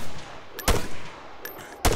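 Gunfire in the video game Arma 3 aimed at zombies: two sharp, loud shots about a second apart, each with a faint lighter crack just before, over quiet background.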